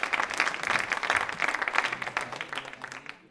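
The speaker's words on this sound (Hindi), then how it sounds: "शिल्पा जी के लिए तालियां जोरों से बजाइए।" An audience at a hospital quiz show applauds a contestant with dense, lively clapping. The clapping peaks, then gradually thins and fades out at the end.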